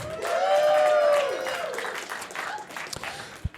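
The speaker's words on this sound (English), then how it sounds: "Please give a round of applause" Live audience applauding at a late-night Star Wars chat show in Chicago, loud clapping with a drawn-out cheering whoop at first, then fading to scattered claps and a few sharp knocks at the end.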